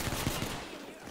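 Rapid gunfire in a video game: a short, dense burst of loud shots that fills the whole clip and tapers off slightly toward the end.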